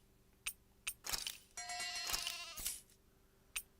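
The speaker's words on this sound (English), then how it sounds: "Una oveja." Sheep bleating in the video game Tales of Arise ranch: a sustained, wavering bleat in the middle stands out among short soft clicks and faint background tones, with no talking.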